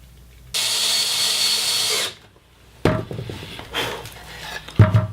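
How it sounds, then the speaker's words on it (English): A power drill bores a pilot hole into a wooden birdhouse in one steady whirring burst, followed after a pause by a screw being driven in with rougher, uneven buzzing and a few knocks. "Use a little bit of glue, pre-drill, and attach the screws"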